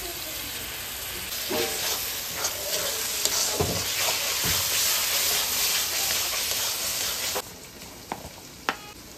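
Garlic and ginger paste sizzles in a hot pan with a dense, close hiss, and a few scraping stirs break through before the sizzle drops quieter near the end.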